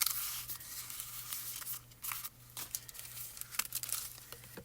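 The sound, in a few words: foil being crumpled and moved aside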